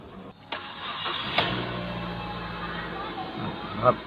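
A Mazda 3 engine cranks with a couple of sharp clicks, catches and settles into a steady idle, heard close by.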